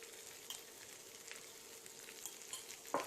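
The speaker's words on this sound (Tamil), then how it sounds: "இதை நல்லா மிக்ஸ் பண்ணி விட்டுருங்க." Potato masala with onions being sautéed and mixed in a pan, a faint, even sizzle with light scattered scrapes and a sharper knock at the end, no voices.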